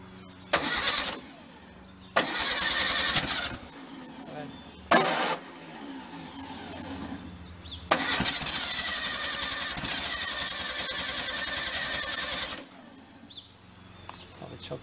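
A rebuilt VW Bus engine on a cold start: several short cranking bursts separated by pauses, then a longer stretch of rough, loud running before it cuts out again, close by.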